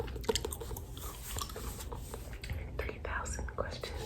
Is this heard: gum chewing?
yes